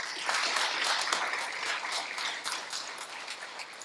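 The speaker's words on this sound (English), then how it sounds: "Let's give another round of applause." Audience applause for eighth-grade presenters gathered at a podium, with many distinct claps forming a lively, sustained burst that tapers slightly toward the end, with no talking.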